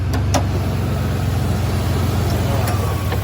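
A 3-liter turbo V6 car engine runs close by with a steady, loud low rumble that holds at a constant level without clear rev peaks.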